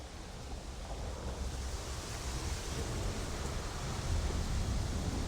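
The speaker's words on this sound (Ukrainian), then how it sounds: "Звиняйте за вітер" Steady, heavy wind rumble buffets the microphone throughout, a broadband roar with no voices.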